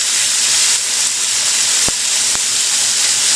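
Food sizzles steadily in a little oil in a 14-inch T-fal jumbo wok, a loud continuous hiss with two brief sharp crackles partway through.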